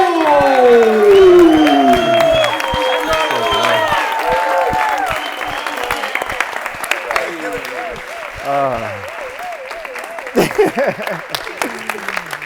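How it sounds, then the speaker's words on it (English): An audience at a conference claps and cheers as a speaker is welcomed to the stage, loud at first and then thinning into scattered claps, with voices and a tonal pattern running over the top. "get this room pumping, maybe some clapping, some yelling, some standing up"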